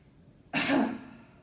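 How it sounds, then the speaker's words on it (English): One short, gentle cough with a soft voiced tone, close up and alone in a quiet room. "I just want you to do a gentle cough to get those vocal folds to come together"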